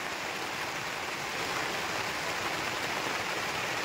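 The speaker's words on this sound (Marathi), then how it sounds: "तर असं पाणी चाललंय वरंब्यातनं" Rainwater runs steadily through a cut in a field embankment during rainfall, a continuous close rushing wash with no voices.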